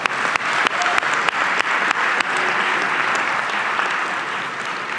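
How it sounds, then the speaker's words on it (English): Graduating crowd at a Berkeley data science commencement breaking into loud, dense applause, a full continuous roar of clapping with a few sharp transients early on, slowly easing in level. "you deserve an extra round of applause"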